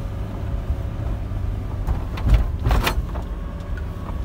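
A car engine idles steadily while warming up ahead of a DPF-related test, a low continuous rumble with brief louder mechanical whirs and clunks midway, close and without talk.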